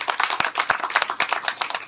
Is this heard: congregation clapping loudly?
yes